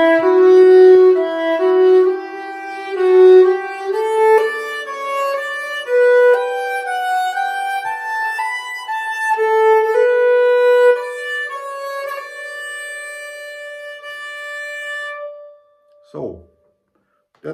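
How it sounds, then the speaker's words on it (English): Solo fiddle plays the Swedish folk tune Hommage till en spelman in a slow melodic line with sustained bowed notes, ending and falling silent before a brief knock or handling noise. "That's the whole piece, Hommage till en spelman, Hommage to a fiddler."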